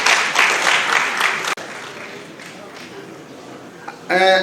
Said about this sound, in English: let's give him a big round of applause to show our appreciation